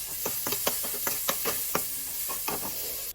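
Frying sizzle of garlic and onion in a pot with repeated clinks and scrapes of stirring, near and fairly steady, no one talking.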